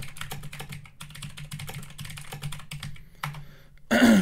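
Someone types a search query on a computer keyboard in rapid, steady clusters of close, crisp clicks over a low hum, ending with a brief louder burst of noise.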